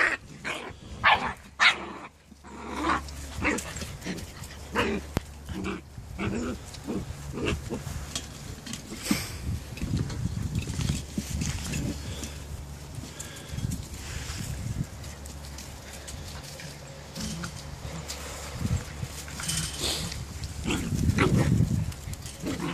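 German Shepherd puppies about 45 days old barking and growling nearby, with sharp yips and scuffling snarls at the start giving way to continuous rough growls and grunting play, louder again near the end.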